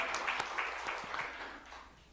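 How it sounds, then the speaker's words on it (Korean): A congregation applauds during a Sunday church service, a brief, steady wash of many hands clapping at moderate volume with a few sharper individual claps standing out. "우리 하나님께 영광의 박수 올려드립시다"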